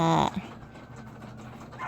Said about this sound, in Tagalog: aso ng kapitbahay na tumatahol